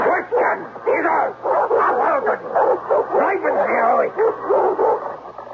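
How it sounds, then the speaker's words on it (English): A dog barks and snarls in an old-time radio mystery drama, a steady run of growling, yipping bursts mixed with voices and a faint broadcast hum. "roaming the property with his snarling dog"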